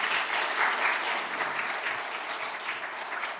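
Sustained audience applause at a symposium welcoming a nun to the stage, a dense, even wash of many hands clapping at moderate distance, steady throughout and slowly tapering near the end.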